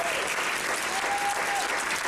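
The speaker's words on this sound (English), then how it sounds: "Big applause for Fabrizio for what he's doing on his drum" Concert audience at the Wheeler Opera House applauding the drummer, a brief steady burst of clapping from a full house with a faint whistle cutting through.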